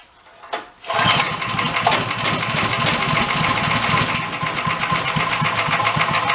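An old junk engine with a knocking fault fires up after a brief rattle and runs loud and close, a rapid regular ticking knock over a rough drone as it is revved a little.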